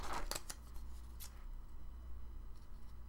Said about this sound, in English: these giant scissors